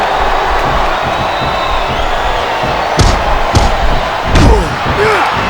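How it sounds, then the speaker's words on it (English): Arena crowd from a WWE SmackDown vs Raw wrestling video game, a steady, dense roar that holds throughout, broken by a few loud slams and thuds near the middle. "Sounds like this crowd's got something on their minds, King"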